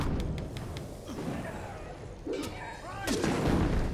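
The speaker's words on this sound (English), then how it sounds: "Why are they throwing black fire bombs?" Black fire bombs burst in the action role-playing game Kingdoms of Amalur: Reckoning, heard as a few soft, muffled booms around the middle and end of a quiet combat scene, with faint voice-like gasps mixed in.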